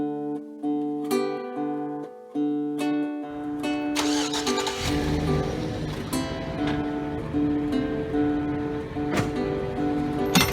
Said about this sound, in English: I'm going to just release the tension, lower the trailer, and pull away.